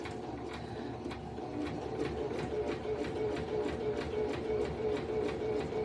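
A Singer Start 1304 sewing machine stitches a straight line, its needle drive whirring in a fast, even mechanical rhythm of repeated ticks, close and steady throughout with no voice over it.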